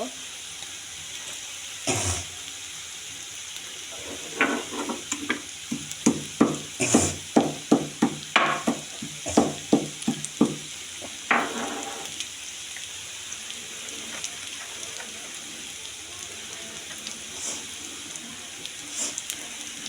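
Whole spices for chicken bhuna, including green and black cardamom and cinnamon, frying in hot oil with a steady sizzle, while a utensil stirs and scrapes the pan in a run of sharp rhythmic clatters midway.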